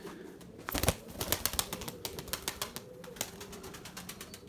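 Erzurum white pigeons take off and flap their wings, a burst of quick, fluttering wingbeats followed by lighter, irregular flapping, fairly quiet and close by.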